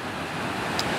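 Rushing water of a raging river at Achray, a steady broadband roar heard up close and loud, continuous for about a second.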